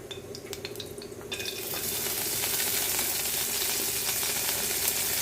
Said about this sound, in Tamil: அடுப்பில் கொஞ்சம் நெய் விட்டுருக்கேன் நம்ம முந்திரி பருப்புகளை வறுத்துக்கலாம்